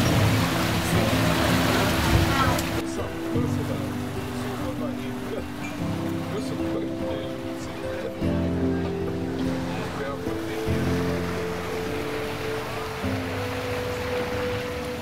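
A steamship cruises through water on the Göta Canal in Sweden, giving a steady low engine hum and rushing water wash, with a louder splashy burst early on and tonal engine drones under a voice.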